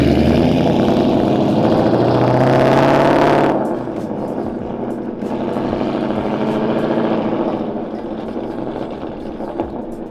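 A Whipple-supercharged Mustang GT engine with a cammed sound revs hard for a few seconds, then drops to a rough, lumpy idle that rises briefly again before settling.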